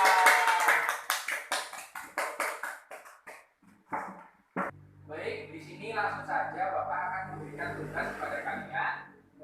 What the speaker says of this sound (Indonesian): Beri tepuk tangan untuk Tessa.